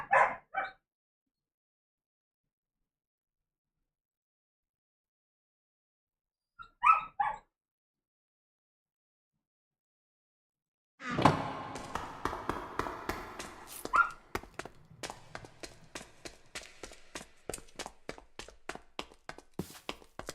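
Barking from a dog in the game Minecraft: two short, separate yips early on, then a denser run of sharp, rhythmic barks and taps that carries on to the end, fairly close and clear with no talking.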